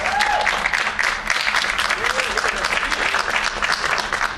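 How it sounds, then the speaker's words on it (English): A crowd at a horror media convention panel claps steadily and loudly throughout, dense applause filling the room, with a few faint cheers and voices mixed in. "Give them a round of applause, ladies and gentlemen."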